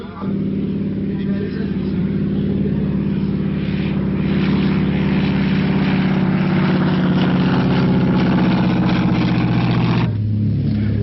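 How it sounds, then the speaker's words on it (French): A Latécoère 17 propeller airplane taking off, its engine droning loud and steady with a rising roar for about ten seconds before cutting to a quieter hum. "Au décollage, un Lateco Air-17."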